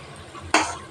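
Giant taro fritters in a frying pan give a sudden loud burst of sizzling and scraping as they are stirred, rising sharply midway through a quieter background of oil hiss.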